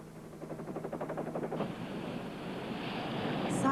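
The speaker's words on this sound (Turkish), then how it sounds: "Sahilin uç noktalarında hırçın bir şekilde kıyıya vuran bir dalganın kıyılara sakin bir şekilde ulaşmasının nedeni süratini yavaş yavaş kaybetmesindendir." Sea waves break on the shore, a rhythmic wash at first that swells into a steady, roaring surge of surf, close by with wind noise on the microphone.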